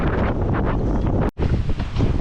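Strong wind from a tropical depression buffets the microphone at a Tahiti boatyard, a loud, continuous roaring rush broken by one brief dropout, with no voices.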